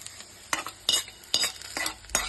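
A spoon stirs onions frying in oil in a pan, scraping in several quick strokes over a soft, steady sizzle, close and fairly quiet.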